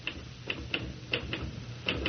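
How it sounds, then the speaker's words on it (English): Typewriter keys clack in an uneven pattern in an old radio drama, several crisp strikes over a low steady hum, fairly quiet and with no one talking. "Stop that typing."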